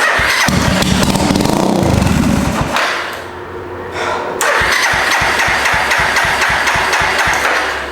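A stolen-then-recovered Suzuki GZ250 motorcycle with a faulty carburetor cranks, catches and runs loudly for a few seconds, stumbles, then fires up again with a rapid, throbbing idle, close by and with no talking.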